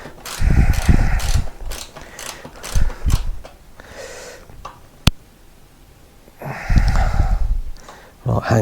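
A spanner works a fuel tank bolt loose on a Royal Enfield Guerrilla 450 motorcycle, giving intermittent close metallic ratcheting clicks and one sharp clack, with breathing and sniffs in between.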